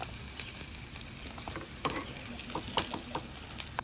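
Curry leaves drop into hot oil for Jaffna-style cooking and sizzle and crackle steadily up close, with scattered sharp pops and a light scrape of stirring.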